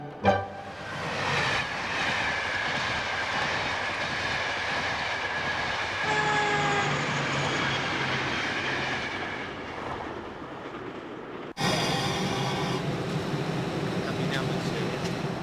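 A train rumbles steadily along the rails with a continuous rolling drone and faint squeals, a voice talking over it, and a sudden louder shift near the end.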